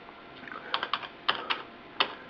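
A free desktop keyboard with something spilled on it, hooked to a Pentium 4 computer, is struck in about eight separate clicky keystrokes at an uneven pace, close and alone.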